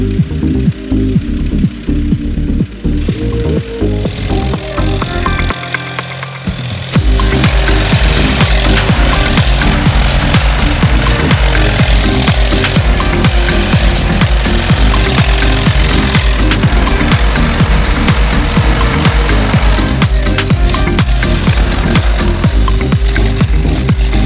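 Tractor engine chugging loudly and continuously while hauling loads for a house foundation, with a rough, knocking diesel rhythm close by and no talk, briefly quieter at the start before settling into a steady heavy run.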